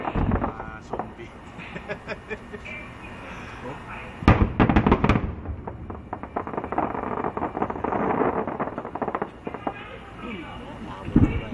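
Fireworks for an Eid al-Fitr celebration in Riyadh burst and crackle in irregular volleys, with sharp near bangs, rapid popping clusters and wind buffeting the microphone, while people talk.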